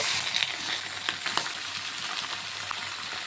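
About 1.75 kg of mutton goes into a pan of onions already fried in oil, setting off a bright, continuous sizzle with a few sharp crackles and stirring sounds, close and without talk.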